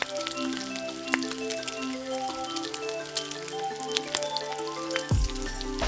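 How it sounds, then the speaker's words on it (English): Lemongrass turkey searing hard in a hot pan over high heat, a steady crackling sizzle with scattered sharp pops that runs throughout, ending in a brief louder clatter. "When the meat's almost done, I like to crank up the heat and get a nice colorful crust on the outside."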